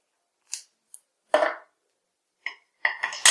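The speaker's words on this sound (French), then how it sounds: "Et je vais prendre des ciseaux qui sont déjà pleins de colle." Scissors make a few brief, crisp snips while cutting small squares of foam, separated by silent pauses, with a denser cluster of clicks and snips near the end, close and dry.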